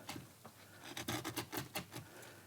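Wooden instrument braces are shaved down by hand, giving a series of close, dry scraping and rasping strokes in an uneven rhythm, fairly quiet with no talking.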